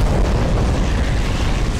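A string of powerful bomb explosions in the video game Garry's Mod, set off inside a human stomach, rolling together into a continuous loud, booming roar.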